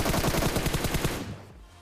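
Rapid automatic gunfire from a video game shootout rattles in a fast, even burst of loud shots lasting over a second, then cuts off abruptly into a brief fading tail.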